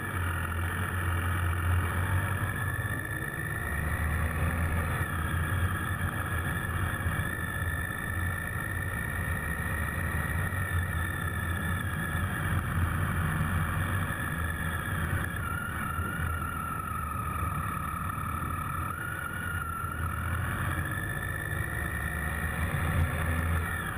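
A motorcycle engine drones steadily and continuously throughout, heard from a microphone inside the rider's helmet, with wind roar and a constant mid-pitched hum on a road ride near Girvan.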